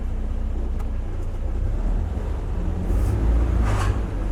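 A Triumph Spitfire's engine rumbles low and steady as the car moves, with wind buffeting and a couple of brief hiss bursts on top, close and moderately loud.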